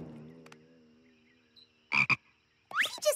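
A cartoon frog in My Little Pony: Friendship is Magic lets out two quick, loud croaks in a row, then a third, after a low sustained hum and a stretch of near silence.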